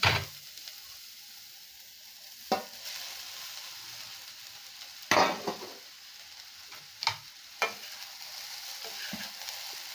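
Rice upma frying in a pan while being stirred, with a soft, steady sizzle under a few sharp scrapes and knocks of the spoon against the pan, close and fairly quiet, with no talk.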